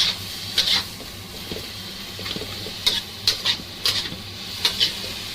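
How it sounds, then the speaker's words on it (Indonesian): Dried oysters, dried scallops and meat stir-fried in a wok, with steady hiss under repeated sharp scraping strokes of a spatula against the pan, spaced unevenly through the stretch. "Tumis kurang lebih 5 menit."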